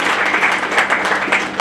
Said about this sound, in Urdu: زوردار تالیاں ان بچوں کے لیے.